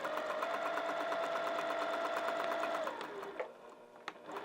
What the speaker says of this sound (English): So I'm going to sew across here and then sew down and sew down this way.